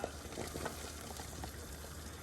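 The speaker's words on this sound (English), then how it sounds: "put it over the water, and we're gonna push it through. You see how it drops into the water like that?" Spaetzle batter pushed through a perforated press and dropping into a pot of boiling water, with steady bubbling and a few soft plops and splashes close by, no talking.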